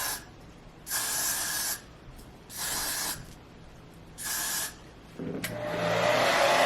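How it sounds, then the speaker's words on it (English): Got To Be glue spray misted onto a hairline in three separate hissing bursts, each under a second long and close to the mic, followed by the rising whoosh of a blow dryer starting up. "I'm just gonna use this Got To Be glued spray, and I'm just gonna spray my hairline right here"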